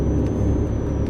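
Truck engine from Euro Truck Simulator 2 on a PC simulator rig, a loud, steady low rumble with no break.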